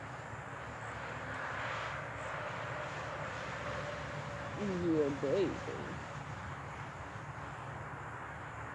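Airplanes flying overhead, a steady distant engine drone running through the background while a person speaks briefly over it.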